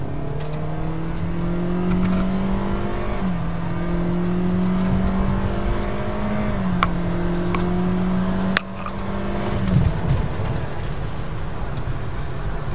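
A 2014 Toyota Altis sedan accelerates hard in a timed run with traction control off, its engine note climbing steadily through three gear changes, loud and close with no talk.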